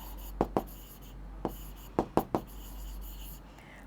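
Pen on paper as numbers are handwritten, faint close scratches and taps in scattered short strokes against a low steady hum, with no voice.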